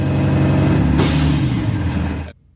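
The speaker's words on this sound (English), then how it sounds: "listening for that governor to kick off that air compressor" A school bus air compressor governor cuts out at 120 psi with a loud, close blast of escaping air that ends the steady compressor drone, then quickly drops to near silence.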